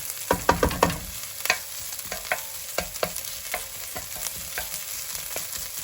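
Onions with green chilli soften in a pan for bacon amatriciana, giving a soft continuous sizzle with a quick burst of stirring clatter early on and scattered scrapes afterwards, no talking.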